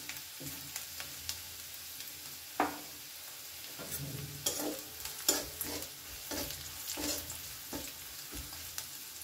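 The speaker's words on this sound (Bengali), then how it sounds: "রসুন কুচি, আদা কুচি। ভালো করে একটু ভেজে নেব" Chopped garlic, ginger and chilli fry quietly in a pan while a utensil stirs and scrapes, producing soft sizzling with scattered clicks and a few sharper knocks, no voices.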